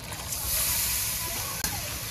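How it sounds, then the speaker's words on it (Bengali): Water pours into a pan of chicken frying with spices, giving a loud steady hiss and bubbling sizzle that holds evenly throughout, with one brief knock near the end. "মানে একটু পানি দিয়ে দিলাম"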